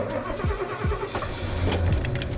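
Vintage RV engine cranking with a few rhythmic starter whirs before catching and settling into a rough running rumble, close and moderately loud.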